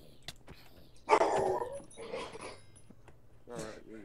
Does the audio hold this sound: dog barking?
yes